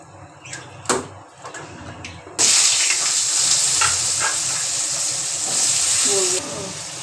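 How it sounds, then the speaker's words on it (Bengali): Nigella seeds dropped into hot oil for tempering: after a few clinks and handling sounds, a sudden loud, bright sizzle bursts up and holds steady before easing slightly at the end. "এইবার এই তেলের মধ্যে আমরা কালো জিরা ফোড়ন দেব।"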